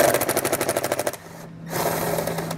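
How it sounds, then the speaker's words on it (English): A power driver fitted with a T30 bit spins out Torx screws on a 2022 BMW X7 tail light area, giving a loud rapid ratcheting buzz for about a second before cutting off, then a quieter whir. "You have two Torx screws up here. You remove those using a T30 bit"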